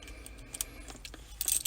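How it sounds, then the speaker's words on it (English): A bunch of keys jangling and rattling in short, bright bursts close by, with faint car engine rumble underneath. "That's the rattle of my keys."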